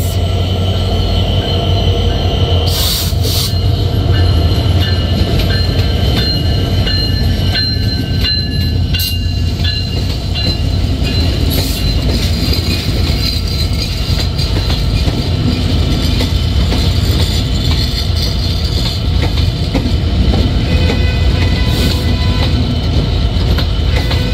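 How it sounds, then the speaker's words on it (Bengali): Padma Express train pulling into a station in Bangladesh, a loud, continuous rumble of railcars rolling past close by with sharp wheel squeals and rattling clatter throughout. "প্রবেশ করছে পদ্মা এক্সপ্রেস।"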